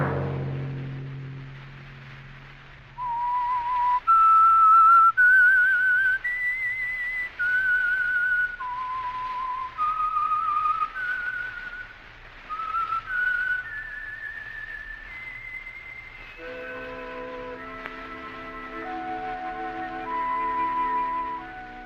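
A lone whistler carries a bright, melodic tune in clear sustained notes, phrase after phrase, joined partway through by soft orchestral accompaniment.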